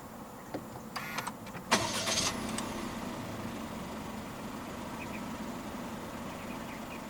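A 2022 Perodua Ativa 1.0 turbo engine cranks with a brief whirring starter after a push-button start and catches, settling into a low steady idle that continues quietly afterward.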